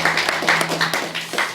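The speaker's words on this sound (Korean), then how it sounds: "우리 좋으신 하나님께 영광 박수 올리겠습니다." A church congregation at a Sunday worship service at Sungbit Full Gospel Church, a Korean church, claps together in a quick, steady rhythm, a dense burst of applause lasting about a second and a half with no speech over it.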